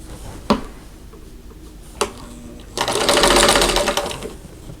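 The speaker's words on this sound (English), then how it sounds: "I'm going to sew them into rows and then sew the rows together" A sewing machine stitches rows of a lattice star quilt block in a steady, fairly loud whir lasting over a second, after a couple of isolated clicks.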